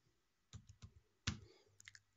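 Someone types CMD into the Windows search box on a computer keyboard, producing a few separate, quiet key clicks with short pauses between them.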